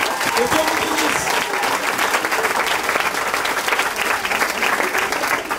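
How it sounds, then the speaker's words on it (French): Audience applauding and cheering volunteers who cleaned the hall at a church gathering, dense steady clapping throughout with crowd voices mixed in, loud and close. "On les acclame là, on les encourage."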